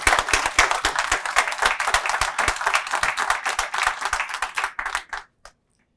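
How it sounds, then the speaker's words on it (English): An audience at a fire department swearing-in ceremony applauds, a dense burst of many clapping hands that carries on evenly for about five seconds and then fades out to silence. "Can we have a round of applause?"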